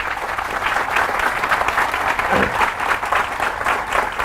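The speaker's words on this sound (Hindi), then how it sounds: "इस बात पे जोरदार तालियां होनी चाहिए हमारे" A seated audience at a sales training seminar breaks into loud, continuous applause, dense clapping close and even throughout the few seconds.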